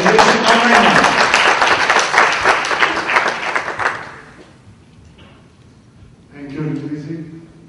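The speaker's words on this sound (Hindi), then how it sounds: "एक बार फिर जोरदार तालियां" An audience at a meditation talk claps loudly for about four seconds, then the applause dies away into quiet, and a voice follows near the end.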